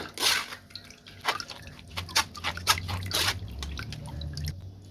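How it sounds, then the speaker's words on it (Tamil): Strained watermelon juice drips and splashes steadily into a container, close and fairly loud, with irregular sharp drops over a low background hum and no speech. "நான் வந்து நல்லா வடிகட்டி எடுத்துகிட்டு வந்துட்டேன்"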